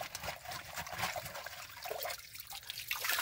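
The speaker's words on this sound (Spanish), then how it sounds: "Fíjense nomás qué tanto hace que se le sacó el agua y ya como va juntando de vuelta." Water trickling back into a drained irrigation pipe at a work site, a continuous close gurgling dribble with small drips, alone without talk.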